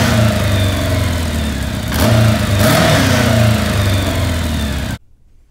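Kawasaki KZ750 motorcycle engine fitted with temporary baffles, revving up and down close by in a steady throaty drone with two sharper throttle blips, then cutting off abruptly near the end.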